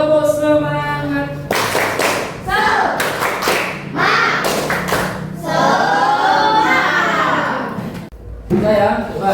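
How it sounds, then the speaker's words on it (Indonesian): Children and their teacher in an Islamic classroom lesson clap their hands together in sharp, loud bursts. The claps come in short rhythmic runs between stretches of chanting and speaking voices. "Ini ya, tepuk tangan untuk kita semua."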